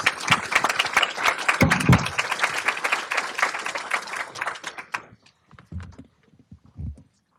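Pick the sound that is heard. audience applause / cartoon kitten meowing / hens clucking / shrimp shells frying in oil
audience applause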